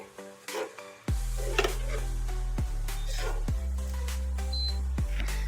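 Okra masala being stirred and fried in a pan right after curd is added, a steady close sizzle with a few scraping stirs and spoon knocks against the pan.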